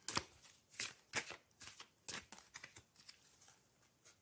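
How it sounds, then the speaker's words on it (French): Oracle card deck being shuffled for a reading, a series of quick papery riffles and slaps in an irregular rhythm, soft and close with no talking. "on va prendre l'oracle Clisse pour faire un tirage général, hein, l'oracle Clisse de Nadia Faure."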